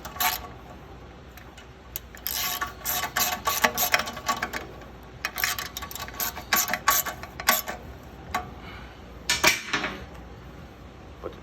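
An 8mm bolt being tightened on a snow blower during repair, with repeated metallic ratchet clicks in quick bursts, close and fairly loud, separated by short pauses.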